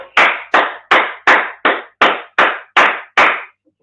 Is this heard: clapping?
yes